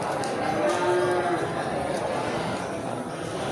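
Simmental cattle at an Aceh livestock market, with a brief low moo rising from the steady crowd noise and chatter of the market, moderately distant.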